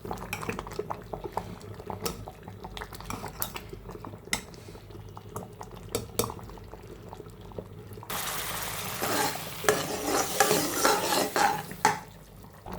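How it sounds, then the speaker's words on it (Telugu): Lentil dal, made with three leafy greens including fenugreek leaves, simmers and bubbles in its tempering in a pot, with a spoon stirring and scraping against the metal in irregular knocks; the bubbling grows louder and busier in the last few seconds. "ఈ తిరగమాతలో కొంచెం సేపు పప్పు ఉడకాలి."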